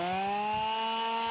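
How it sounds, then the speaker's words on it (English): A belt sander runs steadily on armor parts, a loud, close, continuous whine with a faint rhythmic rubbing underneath. "Palm sander might work, but I use a belt sander."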